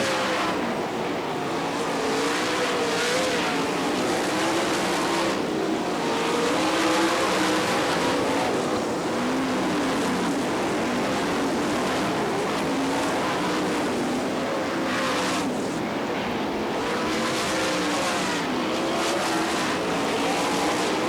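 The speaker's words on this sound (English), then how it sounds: "Lapping cars on his way through, checking out from the second place runner, Joe Saldana" Winged sprint cars from the All Star Circuit of Champions Winternationals at Gibsonton, Florida, roar continuously around a dirt track, a dense, loud engine drone with several cars passing and overlapping throughout.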